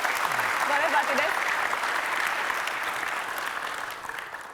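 Studio audience applauding on an Indonesian TV talk show, a dense, steady wash of clapping that holds loud throughout and eases slightly toward the end, with faint voices mixed in underneath.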